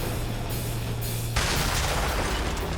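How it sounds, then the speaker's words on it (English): Movie explosions from the action film The Marine, a dense, loud roaring blast with a sudden brighter burst partway through over a continuous rumbling bed. "There's certainly a lot of explosions in the Marine."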